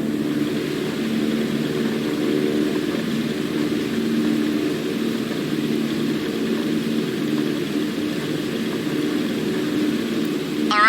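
Steady propeller-plane engine droning at low power while the aircraft taxis back into position on a runway in a flight simulator game, continuous and even throughout with no talk.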